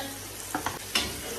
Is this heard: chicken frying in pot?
yes